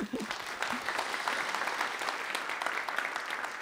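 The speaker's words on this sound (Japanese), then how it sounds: "大きな拍手をお願いいたします。" At the ImPACT kickoff forum, an audience gives sustained, even applause that is fairly faint and distant, holding steady throughout.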